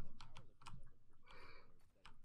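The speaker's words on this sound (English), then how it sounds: "We can actually hear the sound of my keyboard. It's so fucking loud." Keyboard keys clack in quick irregular bursts, close and fairly loud, with a voice talking faintly in the background.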